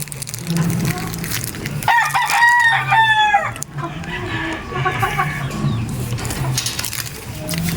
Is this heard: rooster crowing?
yes